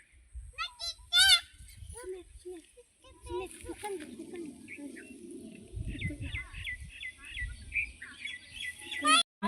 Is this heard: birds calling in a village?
yes